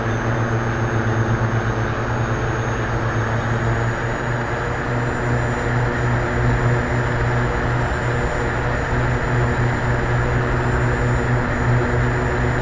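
A-29B Super Tucano turboprop on its takeoff roll in the DCS flight simulator, a loud, steady droning propeller and engine hum with a constant whine, unbroken throughout.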